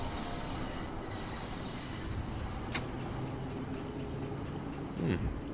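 A London Underground Bakerloo line train in Train Sim World 2 rumbles along steadily with a dense, even rolling roar and a couple of brief high squeals from the wheels, with no talk over it.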